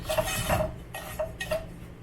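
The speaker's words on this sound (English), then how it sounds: "I'm just going to stir it a little. Whisk is the right word." Metal whisk clinking and scraping in a pot of cooking semolina (suji) mixture, a few quick irregular strokes close up with short bright clinks and no talking.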